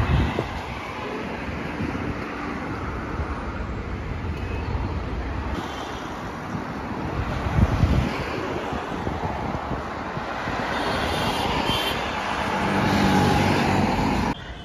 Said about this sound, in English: Crossing Mumbai's roads is always a challenge. This is a heavy traffic.